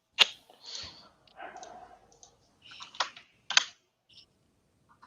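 Computer keyboard typed on during a basketball watch-along stream: scattered sharp key clicks and short bursts of typing, close and fairly quiet, with brief pauses between and no talking.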